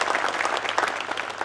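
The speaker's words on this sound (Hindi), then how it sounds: "एक बार जोरदार तालियों के साथ में डॉक्टर सुशील गुप्ता जी का स्वागत कीजिए।" A crowd at a political party workers' gathering claps in a brief, dense burst of applause, loud and steady from start to finish.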